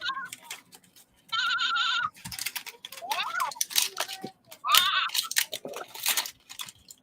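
A Toy Story 4 toy sheep with sounds plays electronic bleats in a few short bursts, loud and close, between stretches of people talking and handling noises.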